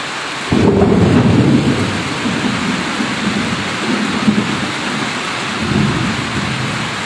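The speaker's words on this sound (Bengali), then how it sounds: "বাতাস রয়েছে বৃষ্টি পড়ছে এমন একটা সিন আপনাদেরকে আসলে দেখাচ্ছি বিজলি চমকাচ্ছে" Heavy rain pours steadily in Naria, Shariatpur, Bangladesh, while a deep roll of thunder rumbles early on, followed by quieter lingering rumbles under the downpour.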